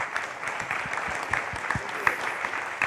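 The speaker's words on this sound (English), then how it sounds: "Give a big round of applause" Audience at a Bitcoin conference applauds, a short burst of scattered, moderately loud clapping filling the room with faint voices underneath.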